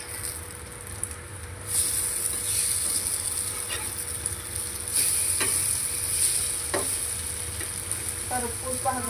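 Bread omelette sizzles steadily in hot oil in a pan, with scattered crackles and pops and the occasional stir or scrape, heard close and without talk.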